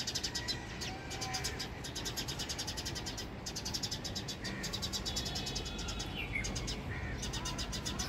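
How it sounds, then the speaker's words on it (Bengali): Sparrows chirping in a rooftop garden, a busy cluster of high, rapid tweets repeating in bursts over steady background noise, with a cat-like meowing call mixed in at times. "ও অনেক চড়ুই পাখি বাবা,"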